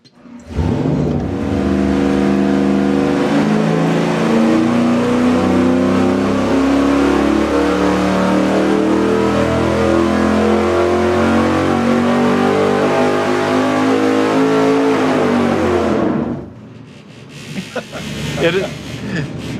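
A Windsor V8 fitted with an Edelbrock RPM intake manifold runs on a dyno, revving up loud and sustained for about fifteen seconds before cutting off sharply, followed by brief quieter shop noise.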